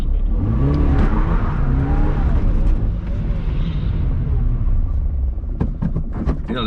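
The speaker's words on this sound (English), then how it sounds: "Got a little bit of burn now just to warm up the tires" Toyota Starlet doing a burnout to warm its tires before a mountain race, a loud continuous engine roar with rising and falling revs, steady and close, ending with a few sharp crackles.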